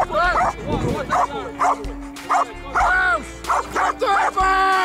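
A dog barks repeatedly in sharp, close bursts with some yips and whimpers at a man posing as a bad guy to test whether it will protect its owners, while people talk and shout throughout.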